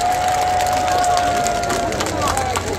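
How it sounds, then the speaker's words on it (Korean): Audience at a trot singer's concert applauding and cheering for the production crew: a loud, dense crowd roar of clapping and shouts with babbling voices, close and sustained for a few seconds, with a thin tonal whine running underneath. "오늘 이 무대를 만들어주신 우리 제작진분들께 한번 박수 한번 부탁드려도 괜찮을까요?"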